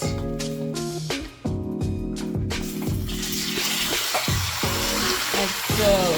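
Beef pieces frying in hot oil in a pan, steady close sizzling with clattering and stirring noises, loud and continuous throughout.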